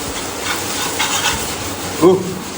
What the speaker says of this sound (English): It's time to stir fry.